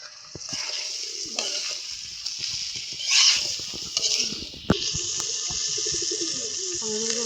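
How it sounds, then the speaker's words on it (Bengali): Ginger and garlic paste sizzles in a pan in a small kitchen, a bright steady frying hiss with stirring clatter and a sharp knock, while a voice speaks quietly and birds coo faintly in the background. "এই যে রসুন বাটা দিয়ে দিচ্ছি"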